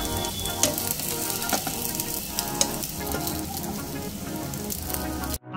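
Sliced bitter gourd frying in oil in a pan for a mung dal dish, a steady close sizzle with crackling pops and occasional stirring, cutting off abruptly at the end.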